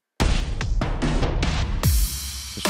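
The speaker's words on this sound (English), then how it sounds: "And so I'm again automating the Shaper Box on and off on this drum." An electronic drum fill in a track produced in Bitwig Studio, chopped by a ShaperBox effect switched on and off, gives sharp gated hits and stuttering bursts that end in a sustained noisy wash.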